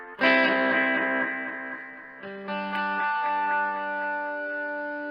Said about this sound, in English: So if you hit one of them off, that's a slightly shorter one, and then that's a longer one. Okay. So you get the ping pong.